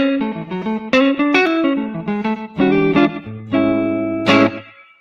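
An electric guitar played through an amp with delay and reverb, picking bright single notes and short phrases that ring out and trail off, ending on a sustained chord that fades away.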